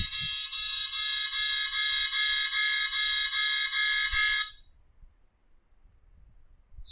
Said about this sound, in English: car alarm will play like this